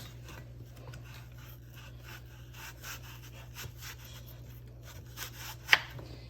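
A knife scrapes and rubs quietly against the skin of eating apples as they are peeled, a soft, close rasping in short repeated strokes with a sharp knock near the end.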